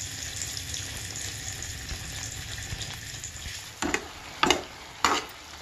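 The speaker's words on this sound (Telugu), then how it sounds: "టమాటా పచ్చడిని ముక్కల్ని ఈ విధముగా గరిటెతో కలుపుకోవాలి." A ladle stirs tomato pickle over a steady wet sizzle, then three sharp scraping clatters of the ladle ring out near the end, close and without talk.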